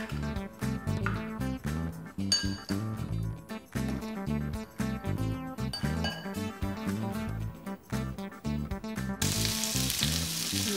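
Octopus and potatoes cook on a hot griddle with a steady loud sizzle, joined by intermittent clinks and scraping from utensils, with music playing over the frying.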